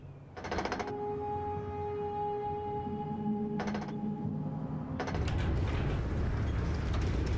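Wire-tightening mechanism in the game Myst V: End of Ages, heard as two sustained grinding, ratcheting tones with steady pitches, the second shorter, followed by a louder broadband rumbling movement at the end.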